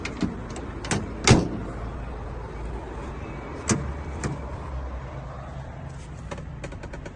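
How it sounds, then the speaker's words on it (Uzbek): Car doors shut with a couple of solid thumps, one sharp and prominent early on and another a few seconds later, along with lighter clicks and knocks against quiet background noise. "Eshik yopishlarichi buni."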